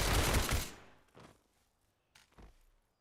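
Gunfire in a VR close-quarters combat shooter game: a loud burst of shots opening the clip and fading out, followed by two shorter, quieter bursts, with no talking.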